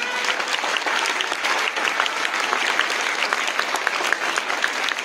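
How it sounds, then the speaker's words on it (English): Steady, dense applause from a school assembly celebrating Christmas Day, a continuous crowd of clapping hands that holds at an even level throughout, with no speech over it. "Give a huge round of applause for this very special day."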